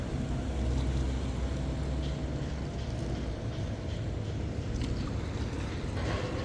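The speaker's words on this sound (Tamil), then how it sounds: "அடுத்த போட்டு பாருங்கள்" A boat moving along the water near the Nayaru bridge area in Sri Lanka, with a steady low engine rumble and broad wash of water noise holding constant throughout, fairly close, with no voices.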